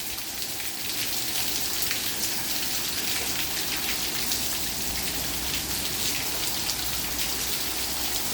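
Steady rain falls in East Mesa, a dense continuous patter of drops on surfaces, even and fairly loud throughout with no voices.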